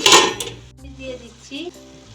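Mutton polao is stirred in a pot with a loud metallic scrape and clatter of a spoon, followed by softer clinks as a lid goes on, while a voice murmurs briefly.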